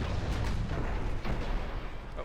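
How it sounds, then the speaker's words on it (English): Torpedo launch from a warship in the naval combat game Dreadnought: a dense, continuous low rumble with several muffled booming bursts, heavy and close throughout. "Oh, that's the torpedo away"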